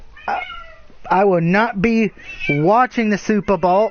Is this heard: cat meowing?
yes